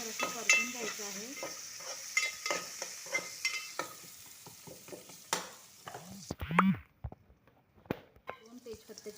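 Crushed ginger, garlic and onion sauté in a pan on a wood-fired village stove, with a soft sizzle and repeated scraping stirs. A voice speaks intermittently, and a sharper clatter comes near the end.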